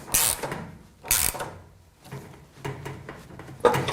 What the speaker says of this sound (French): Clé à douille de 13 devant et clé à œil 17 derrière.